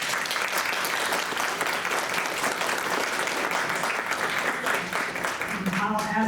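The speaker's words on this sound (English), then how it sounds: "let's give her one more round of applause" An indoor audience applauds steadily for several seconds in a dense, even patter of clapping, and a voice comes in near the end.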